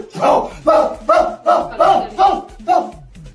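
A man imitates a dog with a run of six loud barks, evenly spaced and close, voiced in a comic, exaggerated manner with no other sound between them.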